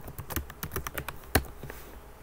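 Quick, light keystrokes tap on a Chromebook keyboard at close range, about a dozen clicks in an uneven rhythm with one sharper, louder key strike near the end.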